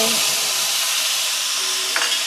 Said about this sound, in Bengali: আর একটু হলুদ দিলাম ভালো করে মশলাটা নাড়িয়ে নিলাম